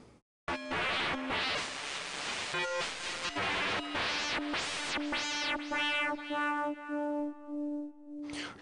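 A synth in Logic with the scream distortion setting gives a loud, harsh, buzzy sustained tone with shifting, swelling timbre, heard alone for several seconds.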